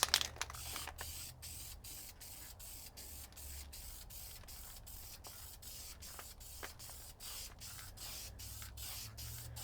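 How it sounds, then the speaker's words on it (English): A continuous hiss of gray primer spray paint from a nearby can, steady and soft throughout, with a few faint clicks over it. "The gray primer looks really nice, honestly. A little test spray."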